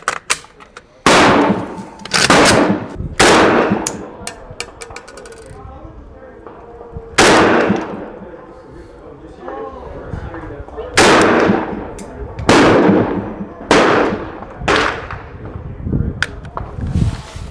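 RPK and PA30 air rifles fire AEA slugs on a range, sharp loud cracks arriving singly and in quick clusters with pauses between, each shot ringing briefly outdoors.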